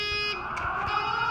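A school fire alarm sounds just after the pull station is pulled, a steady harsh electronic buzz-tone holding loud and constant for the whole brief moment.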